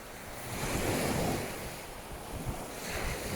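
Sea waves wash onto a beach in Sardinia shortly before sunset, one close surge swelling and receding, then another building, with steady wind noise on the microphone.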